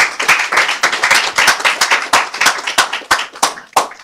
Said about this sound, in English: Please, a round of applause for Tope.